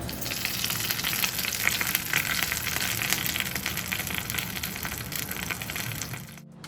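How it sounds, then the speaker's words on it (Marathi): Hot tempering of cumin, sesame seeds and curry leaves poured over chutney, a loud, close sizzle that bursts out and hisses steadily for several seconds before cutting off abruptly, with no voices. "आता ही चुरचुरीत फोडणी चटणीवर ओतूया"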